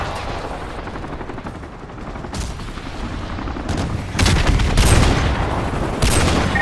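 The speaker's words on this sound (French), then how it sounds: "on a des unités ennemies à l'ouest qui tirent depuis cette position" Sustained gunfire from the Call of Duty: Modern Warfare 2 Remastered video game: continuous automatic weapon bursts that build in intensity, with louder, closer volleys toward the end and no voices.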